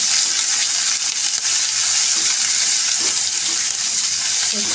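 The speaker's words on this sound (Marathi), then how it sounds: "थोडीशी परतून घेऊया." Sliced green chilies sautéing in hot oil with a pinch of asafoetida in a pan, a steady close sizzle and crackle running unbroken throughout.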